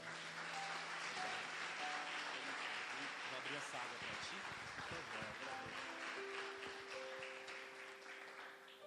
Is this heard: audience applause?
yes